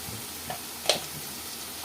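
A spoon stirs mushroom masala curry in a pan with turmeric just added, giving a soft scrape and a faint sizzle over a quiet, steady background.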